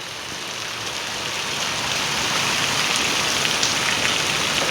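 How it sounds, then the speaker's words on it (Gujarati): Heavy unseasonal rain pours on Kharoi village in Bhachau, Kutch, a dense steady hiss of drops on surfaces that grows slightly louder and then holds, with no voices. "ભચાઉ તાલુકાના ખારોઈ ગામે ફૂલ વરસાદ કમોસમી વરસાદ. પાણી ને પાણી"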